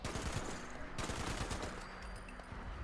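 Rapid bursts of gunfire from the video game Fallout 76 during a fight with raiders, dense cracking shots repeating throughout, loud and close with a brief sharper volley around the one-second mark.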